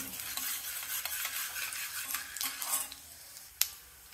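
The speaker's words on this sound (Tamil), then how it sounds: "கொஞ்சம் பருப்பு வறுபடட்டும்." Lentils frying in a pan with a green chilli, with a soft, steady sizzle under scraping stirs and light clinks, close by, and one sharp tap near the end.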